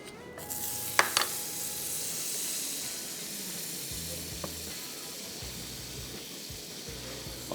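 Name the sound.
butter sizzling in a pan on the stove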